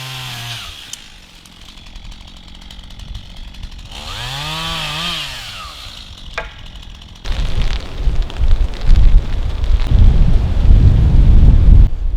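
A thunderstorm rolls in over an off-grid homestead clearing, starting with scattered mechanical and tonal sounds, then turning into loud, continuous rumbling and rushing noise that builds toward the end.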